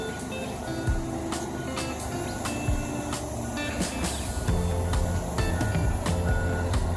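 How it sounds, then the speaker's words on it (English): A truck's rhythmic reversing beeps repeat over a low engine rumble outdoors at an RV factory as it pulls a LUXE Gold fifth-wheel trailer out, with faint voices in the background. "Another beautiful LUXE fifth wheel being pulled out into the sun"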